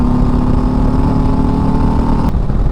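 A 2023 Harley-Davidson Street Glide ST with a 117 engine in 4th gear at highway speed, a loud, deep V-twin drone pulling hard, steady and close, then a sudden shift in tone near the end, with no talk.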